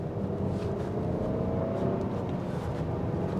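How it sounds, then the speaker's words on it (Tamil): A 2024 Nissan X-Trail engine revving in standard mode, a steady close drone that holds throughout without clear peaks. "இப்போ பாருங்கள், நான் ஸ்டாண்டர்ட் மோட்டில் தான் ரவ் பண்ணுறேன்"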